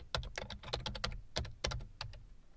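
Rapid, uneven clacking of keys on a computer keyboard as a PowerShell command is typed, close and fairly quiet, with short bursts and brief pauses and no talking.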